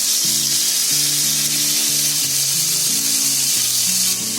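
Halwa fish frying in a pan, dhaba style: a steady, loud hiss and sizzle throughout, with background music and no talking.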